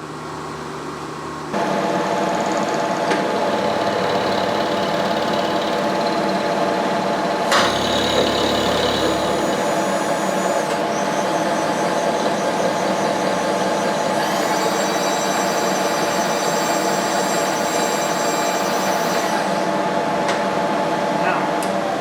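A machine tool runs steadily with its speed set to 137 while repairing a Mitutoyo magnetic indicator base, giving a continuous mechanical hum with whining tones and a brief low rumble partway through, loud and close.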